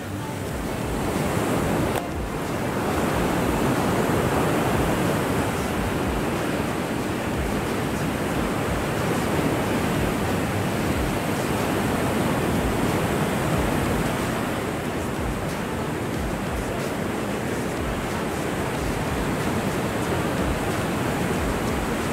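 Rough Caribbean ocean surf near the Black Point tunnel roars as a loud, steady wash of breaking waves with wind buffeting the microphone throughout.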